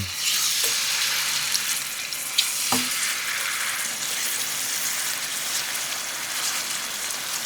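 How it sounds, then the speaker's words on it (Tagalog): Honey garlic pork chop frying in hot oil, a loud, continuous crackling sizzle with a couple of sharper pops early on, steady and close with no voices. "Magpainit tayo ng mantika. Tapos pirituhin na natin."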